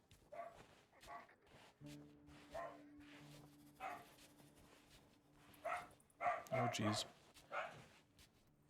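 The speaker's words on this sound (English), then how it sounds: "Oh, sorry if you can hear the dog barking." A dog barks in short, separated bursts somewhere in the house, fairly faint and spread across the moment, while a person talks and a steady tone hums underneath.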